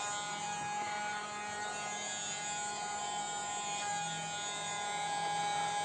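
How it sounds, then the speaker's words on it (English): A small electric motor in a toy vacuum cleaner whirs with a high, steady buzzing whine, running continuously at close range without pause. "We have a vacuum cleaner."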